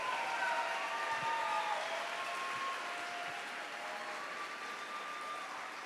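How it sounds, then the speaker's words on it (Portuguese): Congregation applause at a church service, a steady wash of clapping throughout, moderately loud and fairly even, with no talk over it. "Dá uma salva de palmas para Jesus, maravilhoso."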